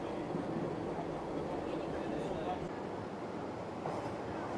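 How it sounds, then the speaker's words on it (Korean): A Pyongyang Metro subway train runs through a deep underground tunnel, giving a steady, loud, unbroken roar and rumble of wheels on rail for the whole stretch. "평양 지하철은 평균 깊이가 90m로 제일 깊은 역은 150m 지하에 위치하고 있어 세계에서 가장 깊은 곳을 달리는 지하철이다"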